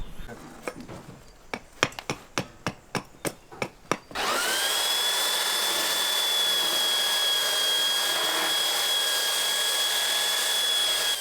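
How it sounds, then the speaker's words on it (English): Power sander working on old reclaimed sawmill wood covered in dirt, starting after a run of sharp knocks, then a steady loud whine with a high tone that holds evenly to the end. "So the first step we need to reuse it is to sand it and clean it."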